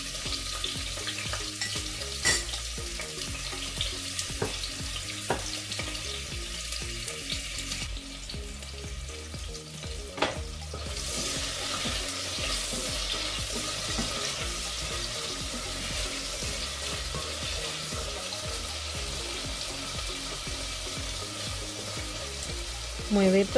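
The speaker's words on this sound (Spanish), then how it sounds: "Añade las aceitunas, los pimientos y la cebolla al aceite caliente." Olives, peppers and onion frying in hot oil for a Puerto Rican salt cod stew, a continuous loud sizzle and crackle with occasional stirring scrapes running throughout.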